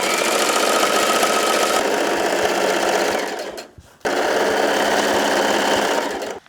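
A sewing machine hems a long length of fabric, running steadily and loudly close by, slowing to a brief stop near the middle before starting up again at full speed.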